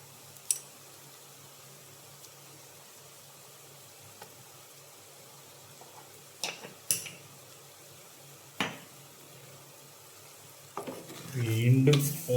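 Beef liver roast with coriander powder being stirred in a pan: a low sizzle under sporadic sharp spatula clacks against the metal, then a louder burst of scraping and frying near the end.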